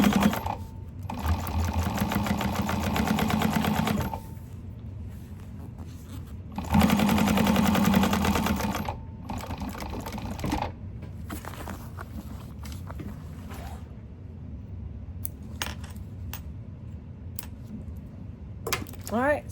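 Sewing machine top stitching a fabric bag 1/8 inch from a seam, running in two loud sustained bursts with quieter handling and shuffling between them.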